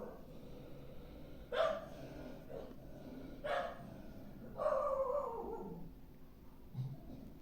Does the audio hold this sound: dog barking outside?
yes